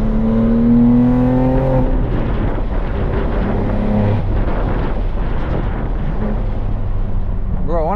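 A BMW M2 engine revs and shifts while driving through tight turns, loud rising tones dropping between gears, with wind buffeting and a voice talking over parts of it.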